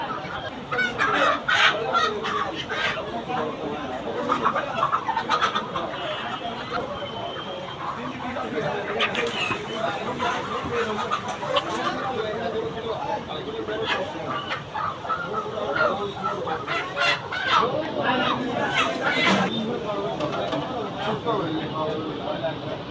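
Chickens cluck busily and continuously in a noisy crowd, with occasional distant crowing and human chatter mixed into the market din.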